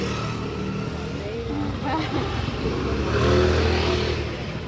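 A car pulls up and its engine revs, a mid-pitched motor note that climbs and grows louder toward the end, with people talking nearby over the sound.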